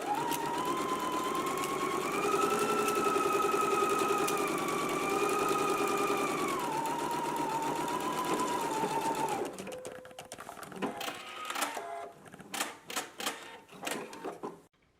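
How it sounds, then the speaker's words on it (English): A sewing machine stitches a fly seam, its motor whirring steadily at a high hum for about nine seconds before stopping, followed by close handling clicks and fabric rustles. "Let's go ahead and stitch it in place first."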